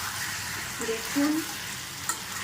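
Chicken stir-fried kosha style in a pan, a steady sizzle with faint scraping and a small clink, close and fairly soft.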